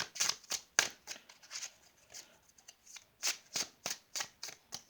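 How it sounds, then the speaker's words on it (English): Gilded Tarot cards being shuffled up close, a run of crisp riffling bursts and soft slides that comes in irregular quick clusters with brief pauses between them, and no voices. "The cards I will be using is the Gilded Tarot by Sierra Marchetti"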